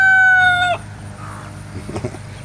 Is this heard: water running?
no